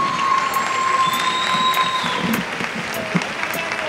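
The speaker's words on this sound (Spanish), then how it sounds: "Un fort aplaudiment." Steady applause from a studio audience for a gymnast contestant at a physique competition, a continuous even wash of clapping with a few faint voices and a sustained tone underneath.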